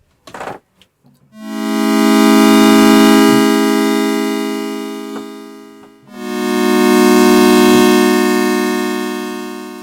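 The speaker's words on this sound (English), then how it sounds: "a pad, which is going to be like nice, slow moving textures" A sustained synthesizer pad chord with slow attack and slow release swells in gradually, holds as a bright, thick harmonic texture, fades briefly, then swells again to another long held chord, loud and alone.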